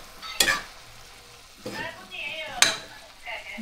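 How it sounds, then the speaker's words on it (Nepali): Milk kheer simmers in a large pot, roughly four mana of milk, as a spoon scrapes and stirs it in a few separate strokes with soft bubbling between them. "यसमा चाहिँ यो भाँडामा लगभग 4 मना दुधको खिर पाक्दैछ आज।"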